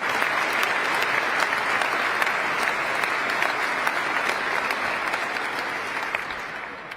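A standing ovation fills a legislative chamber with dense, sustained applause, a loud even roar of many hands that holds steady and eases only slightly toward the end.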